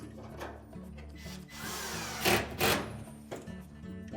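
Retaining screws are driven into an LG dryer with a powered driver, in short close bursts of whirring, separated by quieter pauses with light rubbing and handling noise.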